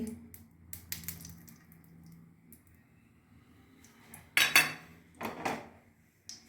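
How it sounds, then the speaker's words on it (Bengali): Fried bread pieces for chilli bread tip into a dish with a few sharp clattering clinks and rattles, close and fairly loud after a quiet stretch of faint kitchen background. "এবার আমি এগুলো ডিশে ঢেলে নেব।"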